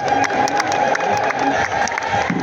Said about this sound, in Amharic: እልል ብላችሁ አመስግኑለት።